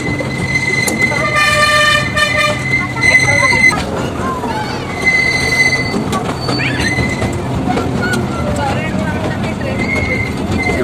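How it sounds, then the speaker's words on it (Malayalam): Train horn toots and rolling railway cars at the Mysore railway museum near the station, loud and busy with wheel noise, crowd chatter and talking throughout. "നമ്മുടെ ഈ ട്രെയിൻ ആ റെയിൽവേ സ്റ്റേഷനിലേക്ക് ഇതിലൂടെയാണ് കടന്നു പോകുന്നത്"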